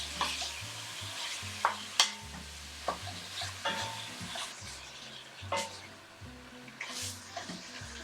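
Ground meat stirred in a hot pan for a ragu sauce, with continuous sizzling broken by repeated scraping and clacking of the utensil against the pan in an irregular rhythm, close and fairly loud.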